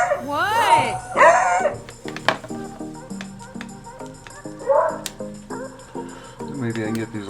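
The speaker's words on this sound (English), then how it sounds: "Boy, that dog's going crazy." Dogs barking upstairs indoors, several bursts of yips and barks carrying through the house, loud and then recurring, mixed with someone talking and small clicks of plastic model pieces being handled.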